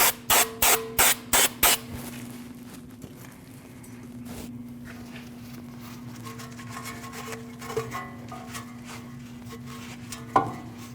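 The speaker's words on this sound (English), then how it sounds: "it's always good to take a little bit of spray and just get that debris out of there" A spray can of cleaner blasts the wheel hub mating surface on a 2014-2023 Jeep Cherokee during a front bearing and hub replacement, with about six short, sharp bursts in a quick row, then quieter clinks and workshop handling sounds.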